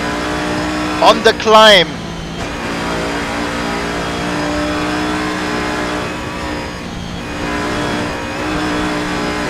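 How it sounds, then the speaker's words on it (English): A GT3 race car engine drones steadily as it powers uphill through the mountain section at Mount Panorama, Bathurst, heard at a distance beneath a commentator's voice, with brief whines of passing cars early on. "You can hear how heavy this car is to get back on the power through the mountain section"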